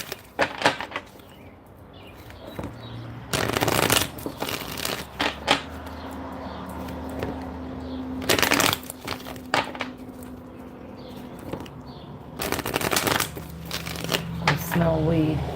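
Tarot cards are shuffled by hand, with several loud, close riffling bursts separated by softer rustling and handling noises across the stretch.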